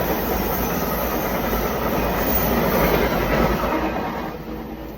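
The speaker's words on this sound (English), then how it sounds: "Oh, here comes a train. I'm at a train station." A train rolls into a station, a loud steady rumble of wheels on rails with clickety-clack and a faint squeal, nearby and unbroken, easing slightly at the end.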